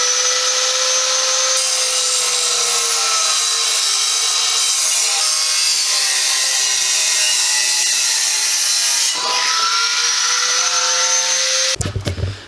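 A power saw cuts through a car exhaust pipe on a Golf R during a resonator delete, grinding steadily at high pitch and loud and close for about nine seconds, then a brief pause before it bites again.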